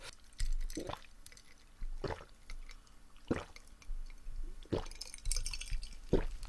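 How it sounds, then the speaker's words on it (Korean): Someone drinks a glass of cola during a meal at close range: several quiet gulps and sips spaced a second or so apart, with faint clinks of glass and soft liquid sounds, and no talking. "콜라 한 잔만 먹을게요"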